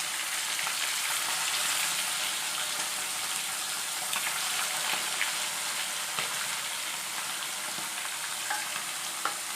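Mackerel frying in hot sunflower oil, a dense, continuous crackling sizzle with small pops scattered throughout, heard close and steady without any talking.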